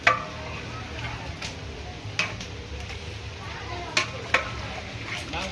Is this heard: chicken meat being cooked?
yes